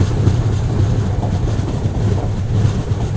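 The Samata Express passes close by on the Vijayanagaram–Raipur main line, a loud continuous rumble of rolling wagons with rhythmic wheel clatter over the rails throughout.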